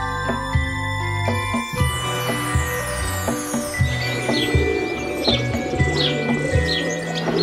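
Bird chirps from the Wii game Ultimate I Spy, a series of bright, short tweets repeating over light game music and chimes, clear and close.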